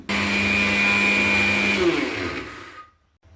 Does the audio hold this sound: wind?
no